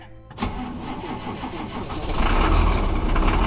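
A large bus engine cranks and catches after a crash, then settles into a loud, deep rumbling idle that builds in strength, heard up close.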